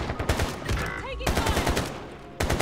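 Video game gunfire from Trash Warzone crackles in rapid automatic bursts: a fast volley, a short pause, another loud burst, then a final sudden volley near the end.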